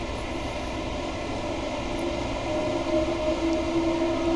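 A steady low rumble of passing trains in Train Sim World 2's London commuter route, with faint tonal whine from the traction motors rising slightly partway through, continuous and fairly loud with no voices.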